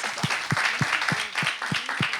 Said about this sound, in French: Il faut applaudir pour lui.